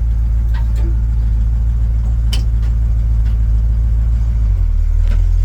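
A 1956 Dodge shop truck engine runs steadily at idle as a close, continuous low rumble. Its pitch drops slightly near the end. No one speaks.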